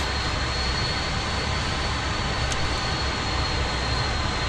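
A jet aircraft in the flight simulator DCS World roars through a rolling takeoff, a loud, dense engine rush that holds steady and unbroken throughout.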